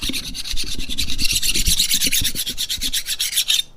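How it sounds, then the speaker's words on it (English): A flat file's fine side is run over a metal part of a Razor SX-500 build to remove burrs, making a loud, close rhythmic rasp of quick even strokes that continues without a break, with no talking. "get my flat file and just run it over this thing on the fine side"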